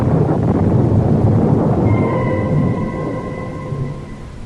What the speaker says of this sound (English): But again the clouds are gathering. The storm is at my heels.